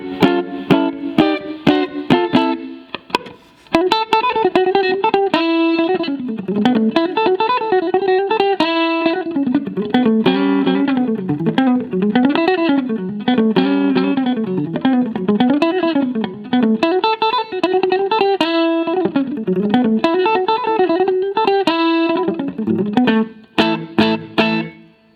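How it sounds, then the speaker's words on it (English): A 1980 Gibson Byrdland electric guitar in original natural finish, played on the neck pickup through a stock 4x10 Hot Rod DeVille amp with a touch of reverb, rings out loud and close in a continuous run of notes and chords. "We've got the 1980 Gibson Byrdland, an original natural finish. We got it going through a stock 410 Hot Rod DeVille"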